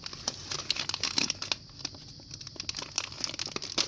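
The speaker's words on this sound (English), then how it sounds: "let's go ahead and tear open this package. It's some easy plastic that you can easily just rip open" Easy-rip plastic packaging of a small toy figure being torn open by hand, a quick series of close crinkles and crackling tears with a short lull midway, no talking.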